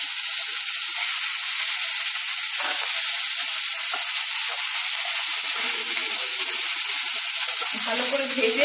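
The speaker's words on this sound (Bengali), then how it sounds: "মাছটা দিয়ে দিচ্ছি" Hilsa fish frying in hot mustard oil, a loud, steady sizzle running throughout, with faint clinks of a spatula near the end.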